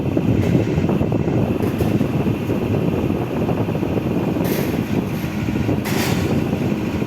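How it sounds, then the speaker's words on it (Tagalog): Strong wind roars steadily across the microphone high on a tower line in Saudi Arabia, a dense rumbling buffet with occasional brief gusting bursts, loud and continuous throughout. "malakas ang hangin"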